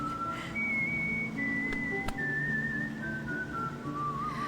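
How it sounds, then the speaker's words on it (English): A long, clear melodic whistle carries a slow tune over soft background music in the Reverse: 1999 event story, steady and fairly close. "with this music and the whistling, it makes me feel like I'm in a Quentin Tarantino movie or something"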